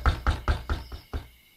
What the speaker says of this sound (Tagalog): may malakas na kumatok